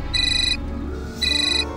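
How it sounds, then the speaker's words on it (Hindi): A mobile phone ringtone plays two loud, bright electronic bursts with a short gap between them, over a low background hum. "किसका फोन है?"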